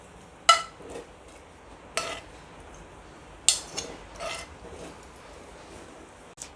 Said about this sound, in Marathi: मी एक मिक्सर जार घेतलेला आहे. त्यात हा सगळा मसाला मी टाकते आता.